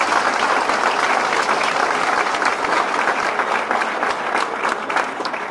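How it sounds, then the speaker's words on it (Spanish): A crowd at a Mexican PRD party registration event in the State of Mexico applauds steadily, a dense, even wash of clapping that stays loud throughout without any speech on top. "De verdad, eso merece que se aplaude."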